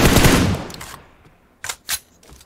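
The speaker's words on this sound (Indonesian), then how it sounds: "Belakang ada yang nembak dia" Gunfire in a battle royale video game, a loud rapid burst at first that decays, then a few sharp separate shots after a pause, close and without talk.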